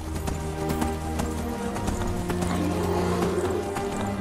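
Rhythmic horse hooves clip-clop steadily over a constant background hum in the video game Skyrim, an even trotting beat that carries throughout.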